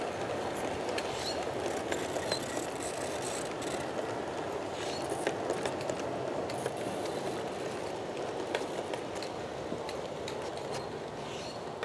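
Model Mallet locomotive pulling seven metal cars up a 2.5% grade, a steady close mechanical rumble and whir with faint clicking throughout, no voices.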